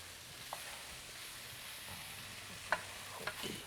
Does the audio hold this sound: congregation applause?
no